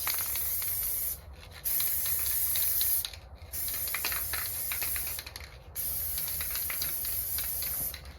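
Aerosol can sprays clear lacquer onto a plastic hubcap in long hissing bursts with a few brief pauses, a steady close broadband hiss with a nearly empty can's sputter.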